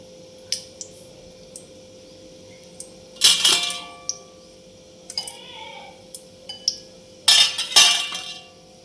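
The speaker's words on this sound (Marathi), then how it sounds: "मोहरी तडतडली" Mustard seeds crackling in hot oil in a kadhai. Sharp pops come in a few loud clustered bursts with scattered small ticks in between.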